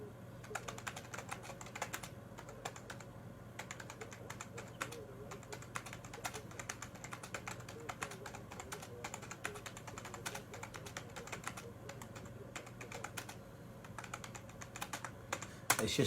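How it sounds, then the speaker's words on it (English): Quick, steady typing on a computer keyboard, close and soft, a continuous patter of key clicks with brief pauses, faint birds cooing in the background. "Just typing something quickly about the group."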